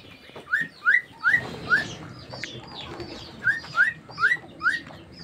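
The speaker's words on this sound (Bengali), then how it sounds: "আর এগুলো তোমার ককাটেল পাখি।" Pet cockatiels give a series of short, rising chirps, four in quick succession, a pause, then four more, loud and close over a faint background murmur.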